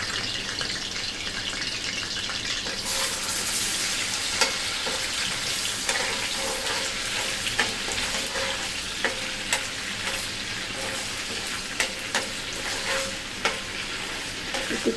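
Ginger, garlic and spices fry in hot oil for chicken tehari, a steady loud sizzle with repeated sharp clicks and scrapes of stirring, close by, with no voices.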